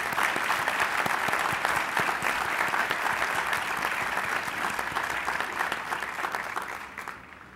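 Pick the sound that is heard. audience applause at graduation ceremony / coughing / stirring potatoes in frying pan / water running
audience applause at graduation ceremony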